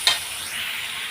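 A spiced leftover vegetable-stem curry base fries in a pan, opening with a quick spatula scrape and then a steady, close sizzle.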